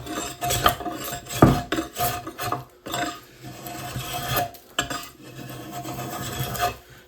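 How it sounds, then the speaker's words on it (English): A draw knife shaves rived wood, held bevel up to flatten an axe handle, with repeated rasping strokes of varying length, close and fairly loud, broken by brief pauses. "I'm using the draw knife bevel up for this flattening job"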